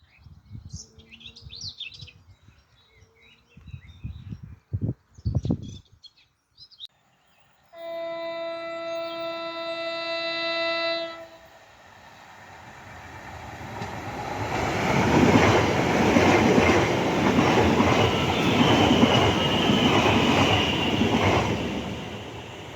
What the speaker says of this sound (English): Well, I've missed that train